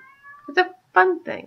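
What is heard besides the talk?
cat meowing, wanting to go out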